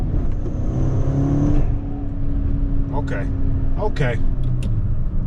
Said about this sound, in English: the turbo definitely hit you with that a little bit of flutter at the end